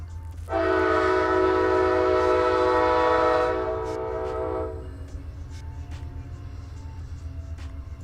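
A loud, sustained train horn blasts for about four seconds, then cuts off, leaving a low rumble of rail traffic in the background.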